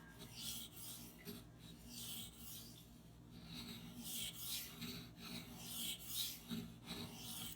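A CPM-4V steel knife with a lot of belly is stroked across a 1K whetstone. A steady run of close, raspy scraping strokes repeats in an even rhythm, with no voices.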